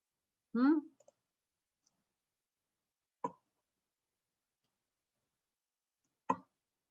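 Three separate mouse clicks while searching on a web page, each short and sharp with long quiet gaps between, the first one louder and followed by a couple of faint ticks.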